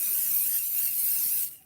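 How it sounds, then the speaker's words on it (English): A single steady hiss of Pixie spray misted over a tacky stencil for about a second and a half, cutting off abruptly at the end. "I'm going to kind of just spray over the top"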